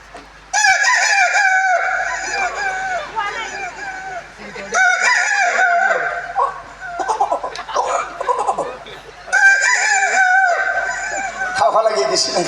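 Voice imitating a rooster crowing, three long, loud, warbling calls with pauses between, answered by scattered laughter and chatter from a group nearby.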